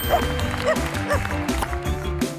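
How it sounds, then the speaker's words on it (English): A dog barks a few times in a children's animal puzzle game, the yips mixed into steady background music. "A dog."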